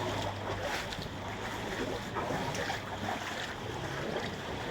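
A motorboat engine runs through flood water, a steady low drone under broadband wash of water and wind, continuous and moderately distant throughout.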